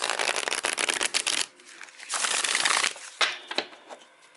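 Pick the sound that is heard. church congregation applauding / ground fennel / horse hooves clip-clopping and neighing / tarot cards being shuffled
tarot cards being shuffled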